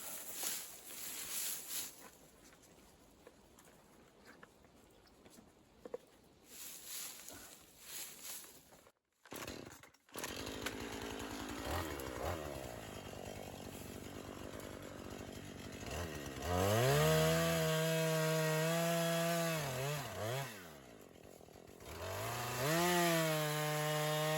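A chainsaw cuts into a dead tree to fell it. Quieter idling and cutting come first, then a brief gap, and then the saw revs loud and steady through the back cut, close by, with pitch dipping and rising.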